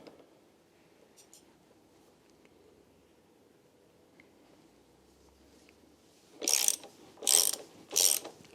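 A ratchet loosens the 12mm caliper bracket bolts on a Royal Enfield Meteor 350 motorcycle, giving three loud, close bursts of rapid pawl clicking near the end after a quiet stretch of faint handling noise.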